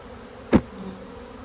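Honeybees shaken off hive frames during spring hive management give a single short, loud burst of buzzing close by, followed by a faint background hum.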